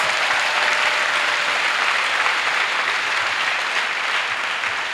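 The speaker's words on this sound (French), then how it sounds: "Clap for Jesus Christ." A congregation at a salvation and healing weekend in Port-Bouët claps for Jesus Christ, a dense, loud, steady wash of applause that holds evenly for the full stretch with no voices rising above it.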